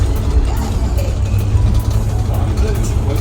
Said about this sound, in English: my family found their way on to the transit bus for CVG Airport